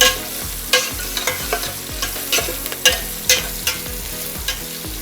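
Onions frying with salt in oil in a pot for Hyderabadi chicken dum biryani, a constant sizzle broken by sharp scraping strokes of a spoon stirring at an uneven rhythm, close and loud with no talking.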